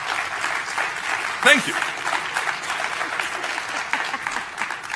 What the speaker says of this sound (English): I had applause here in my text.